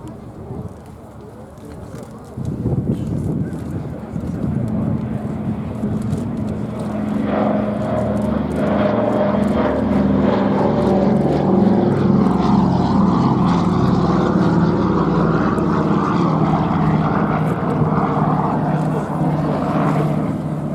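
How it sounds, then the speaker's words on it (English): A Douglas Dakota 3 of the Battle of Britain Memorial Flight makes its final airshow pass at Duxford, its piston propeller drone swelling from moderate to a loud, sustained throbbing roar as it nears, with a commentator speaking over it. "Here, once again, the Dakota 3 of the Battle of Britain Memorial Flight. This is its final pass."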